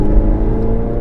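A 2017 Chevrolet Camaro ZL1 engine in sports mode gives a loud, close, steady low drone from inside the car, a brief sustained rumble without distinct gear changes.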